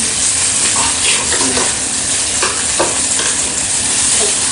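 Steak sizzles loudly on a hot iron plate at a steak and meat dining restaurant, a dense continuous frying hiss with faint clinks and stirring scrapes, close and steady throughout.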